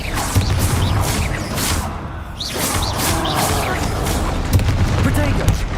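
Confringo spell blasts in the wizarding game Hogwarts Legacy, a run of loud, booming explosions and crashing impacts, with a brief lull before more blasts and spell-effect whooshes.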